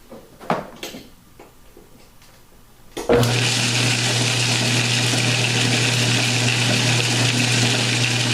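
A few faint clanks, then a loud ball mill starts abruptly and keeps up a steady, droning roar with a constant low hum, close and continuous.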